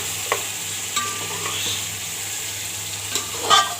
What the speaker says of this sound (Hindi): हमारा गोश्त यहाँ पे फ्राई हो रहा है।